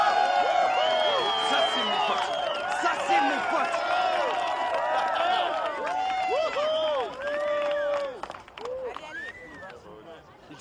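A street-show crowd cheers and applauds as a performer billed as the best act on the west coast arrives, a dense, steady roar of clapping and excited shouting voices, with someone talking over it before the noise thins near the end.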